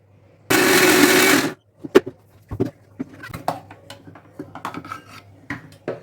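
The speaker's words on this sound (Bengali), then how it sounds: "গুঁড়ও ব্লেন্ড করে নিলাম" A blender grinds jaggery in a loud, roaring burst of about a second, then stops, followed by scattered clinks and scrapes of the jar and utensils, with no talking.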